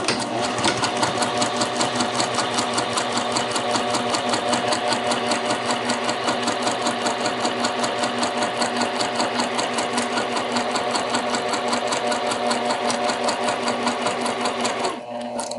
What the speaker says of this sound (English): Going to stitch through all layers, stitch through the pocket bag and the muslin.